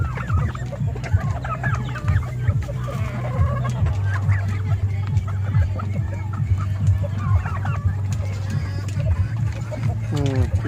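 Turkeys and chickens feed on kamias fruit, pecking and clucking busily nearby over a steady low hum, with scattered higher calls and a voice speaking over them.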